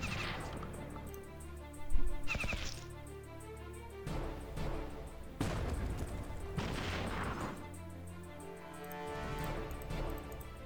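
Tanks and veteran infantry firing in the strategy game Battle Nations, with bursts of gunshots and heavy booms in separate volleys, the loudest early on, then further rounds of fire separated by brief lulls.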